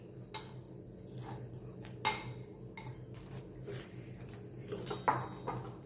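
Gum (gond) mixture being stirred in a pan over a low flame, with scattered clinks and scrapes of a spoon against the metal, close but quiet over a faint steady hum.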